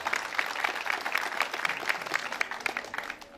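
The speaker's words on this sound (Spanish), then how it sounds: "Dele palmas al Señor" A church congregation claps in steady rhythmic unison, many hands together at moderate distance, a continuous patter of sharp claps that fades slightly at the very end.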